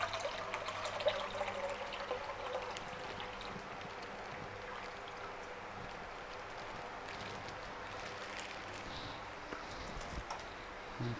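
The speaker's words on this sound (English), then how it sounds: "I'm going to add about 1 kilo of diluted coconut milk." About a kilo of diluted coconut milk poured into a frying pan for Thai Tom Kha Kai, a soft, continuous liquid stream and trickle heard faintly and evenly throughout.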